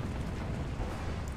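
Tank shell explosion in the War Thunder video game, a French tank's heavy shot landing as a dense, sustained low rumbling blast that fills the moment with loud, rolling roar.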